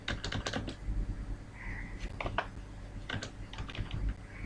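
Close, quiet clicking of keys on a computer keyboard, typed in irregular bursts with a few heavier single presses, heard alone without speech.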